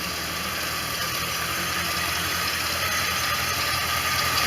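A 1989 Corvette roadster's engine idles at close range, holding a steady, even drone throughout with no voices.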